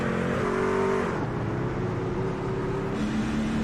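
Race cars roll on a formation lap at Atlanta Motor Speedway, engines droning steadily and fairly loud throughout, with pitch shifts as the pack passes and no talk.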